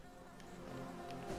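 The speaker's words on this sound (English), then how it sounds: "That's a lot of bees." Swarm of bees buzzing in the video game Hollow Knight, a steady soft drone with brief rising whirs, alone and fairly quiet over game ambience.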